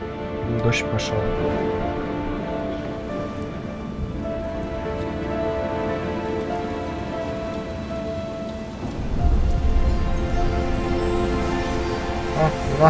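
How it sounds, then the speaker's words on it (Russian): Steady rain hiss with a low thunder rumble swelling near the end, a Shadow Warrior game soundscape with faint voices underneath. "Дождь пошел."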